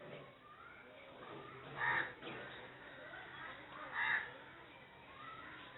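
Crows in a village setting, two distinct caws rising over a quiet outdoor background with faint murmuring, moderately distant.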